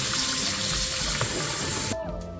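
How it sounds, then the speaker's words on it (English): Beef pieces rinsed under a running tap in a kitchen sink, a steady broadband gush of water that cuts off abruptly near the end, leaving faint background tones. "So at this point, we're just going to rinse off the beef."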